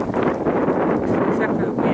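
Wind gusting across the volcanic terrain of the Tongariro Alpine Crossing, a loud continuous buffeting roar over the microphone with surging pulses throughout.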